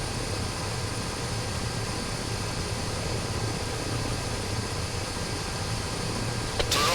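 A steady, droning helicopter rotor and engine hum fills a combat flight mission in a video game, continuous and even without breaks or nearby voices.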